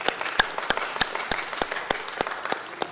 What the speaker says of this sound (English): let's give her a round of applause because she's got a loving home